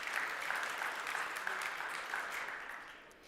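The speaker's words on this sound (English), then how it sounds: "Your applause." A conference audience gives applause after a jazz trio's performance, a steady, even roar of many hands clapping at moderate distance that slowly tapers off toward the end.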